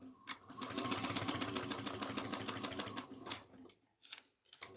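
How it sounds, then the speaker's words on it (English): A domestic sewing machine runs a short seam in rapid, steady stitching, then briefly reverses to lock the stitch on a small cross-body bag, pausing and restarting with a few quick bursts near the end. "You're going to back stitch 1 or 2 stitches, locking the stitch in."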